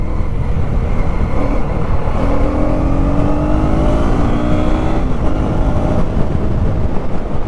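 A 2024 KTM Duke 250 motorcycle downshifts through the gears from fourth to second while riding, its engine droning loud and steady while the pitch steps down with each shift, with constant wind rush and no talk.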